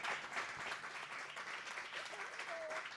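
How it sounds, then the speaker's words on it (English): Audience at a smart-city conference session applauding the participants, a continuous patter of many hands at moderate distance, with a faint voice briefly heard beneath. "please join me to thank with an applause our wonderful participants"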